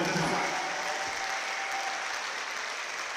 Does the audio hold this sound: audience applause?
yes